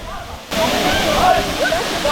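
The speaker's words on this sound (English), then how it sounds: "That's the waterfall, guys," Roaring cascade at Sheldrick Waterfalls in the Shimba Hills on the Kenyan coast, a steady broadband rush that swells in after a brief quieter moment, close and loud, with faint voices mixed in.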